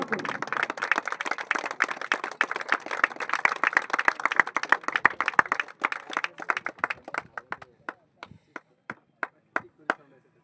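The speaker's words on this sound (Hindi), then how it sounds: "जोरदार करताली रहिबो Madhesh warriors honour with captain Prahlad Mahakud" Loud applause at a JPL ceremony honoring Madhesh Warriors team captain Prahlad Mahakud: a crowd claps densely and loudly at first, then thins into a slowing series of scattered single claps until only a few sharp claps remain.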